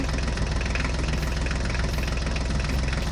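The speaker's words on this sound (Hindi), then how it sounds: "हमारा होलैंड ट्रैक्टर अपनी पूरी ताकत लगा रहा है।" A toy New Holland tractor engine drones steadily and loudly with a rapid knocking pulse, straining as it pulls a Ford tractor out of sand.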